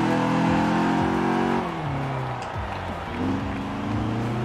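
A stock BMW E30 engine in the racing game Forza Horizon 4 revs loudly and continuously, its pitch climbing and dropping through several rising and falling sweeps.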